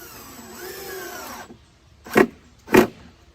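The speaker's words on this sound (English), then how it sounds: "Now we come over to this side and put our last screw in, just like that." An electric drill whirs for about a second and a half, driving the last screw into the plywood of a bat house. After a brief quiet, two short, sharp knocks follow, close and loud.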